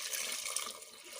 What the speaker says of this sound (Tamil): சேர்த்தியாச்சு, தேவையான தண்ணி ஊற்றியாச்சு.